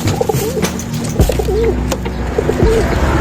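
A dove coos repeatedly, soft throaty calls in a steady rhythm, heard over a continuous outdoor rumble with a few sharp knocks.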